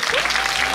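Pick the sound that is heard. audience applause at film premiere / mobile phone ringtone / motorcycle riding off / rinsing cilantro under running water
audience applause at film premiere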